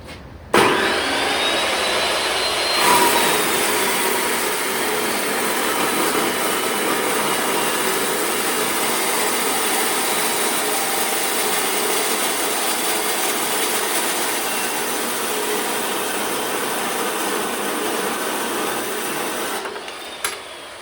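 A Metal Devil 1490 cold saw with a 90-tooth blade slowly cuts through 3-inch OD steel pipe with half-inch wall, giving a steady, loud, continuous grinding whine that holds for about seventeen seconds before the blade spins down.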